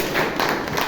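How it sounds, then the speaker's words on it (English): Audience applause at a Toastmasters meeting in Bangalore: a short, steady burst of many hands clapping together in a room, even in loudness from start to end. "Give him a big round of applause."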